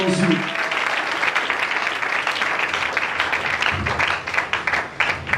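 A church congregation applauds in a dense, sustained wash of clapping, with a voice briefly heard at the start and the clapping turning more scattered near the end.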